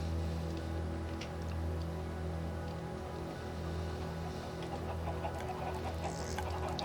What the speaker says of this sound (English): So I'm guessing we've got a lot of chickens about now.